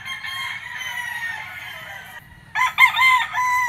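Pure white Kelso gamefowl rooster crowing at a gamefarm, one long drawn-out crow close and loud followed by a second louder burst of crowing after a short pause.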